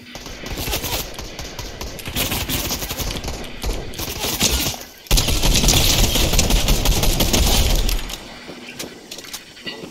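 Sustained gunfire in the Fortnite video game, with dense rapid bursts and shots crackling almost without pause, loud and close, briefly breaking off midway before resuming just as intensely.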